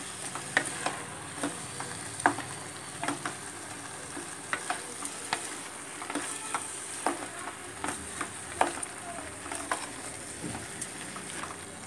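Ingredients for tomato rice fry and get stirred in a pan, giving a steady sizzle with irregular scraping and clinking strokes of a utensil throughout, close and moderately loud.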